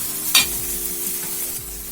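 Coriander and cumin powder added to a sizzling chicken curry gravy, a sharp hiss as the spices hit the hot oil, then a steady low sizzle with light stirring, close up and free of speech.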